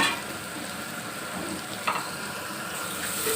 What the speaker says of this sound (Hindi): चम्मच की मदद से अच्छी तरह मिक्स करेंगे।